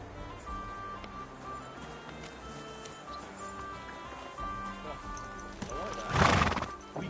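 A horse in Kingdom Come: Deliverance II whinnies loudly near the end, with hooves clip-clopping and faint voices or ambient sounds earlier on.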